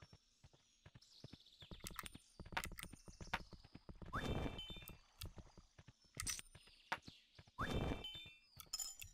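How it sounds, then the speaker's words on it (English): Horse hooves clip-clop through Kingdom: New Lands gameplay, a steady run of sharp hoof strikes with bursts of louder galloping, plus faint metallic clinks, with no talk. "We need a better horse."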